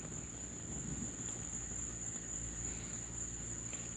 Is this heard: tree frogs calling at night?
yes